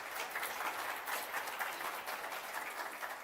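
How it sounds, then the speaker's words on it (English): Tepid applause from a conference audience at an operational excellence event, a soft, even wash of many hands clapping, distant and fairly quiet, sustained throughout with no voices. "That's a very tepid clap."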